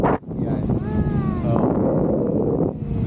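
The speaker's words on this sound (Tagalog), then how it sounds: "Lakas ng hangin" Steady, loud wind buffets the microphone throughout while parasailing at Boracay, a constant low roar with a brief dip near the start.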